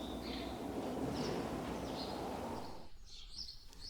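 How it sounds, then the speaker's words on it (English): Small birds chirp in a farmyard, chaffinches among them, with brief high calls scattered over a steady broad hiss of background noise before it quietens toward the end. "watching the little chaffinches feeding away in the yard outside"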